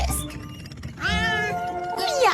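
A cartoon character imitates a cat's meow with a drawn-out, wavering vocal mew that rises and falls, followed by a second shorter meow, heard near and loud over background speech and music.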